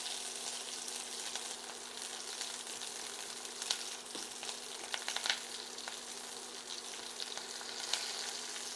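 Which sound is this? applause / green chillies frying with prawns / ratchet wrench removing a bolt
green chillies frying with prawns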